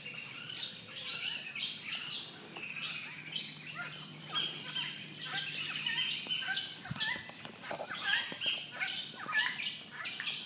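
Noisy, mostly unseen birds calling in the East Point mangroves near Darwin, a dense mix of squawks, chirps and whistles overlapping continuously at moderate distance, with no voices.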